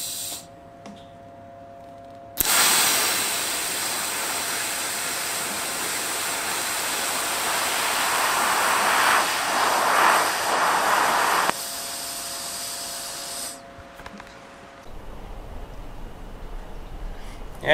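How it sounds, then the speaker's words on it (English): TIG welding on a snow plow build gives a steady, close, loud hiss that runs for about nine seconds, shifts to a lower, rougher tone, then drops back to a quieter hum. No one speaks. "Another exciting day with Mr. Magoo and his TIG welding."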